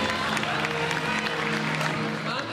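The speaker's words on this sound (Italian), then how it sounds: "un applauso a Dorian Gray." A crowd applauds a cosplayer at a cosplay event, clapping blended with chatter and music tones in a busy, reverberant hall.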